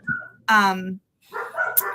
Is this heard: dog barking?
yes